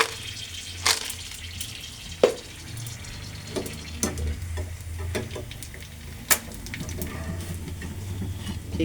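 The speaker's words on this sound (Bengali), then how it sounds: "এই যে আমি ভাজতেছি" Fuchka, puffed snacks, frying in hot oil with a steady low bubbling sizzle, broken by a few sharp clinks and taps from utensils and no talking.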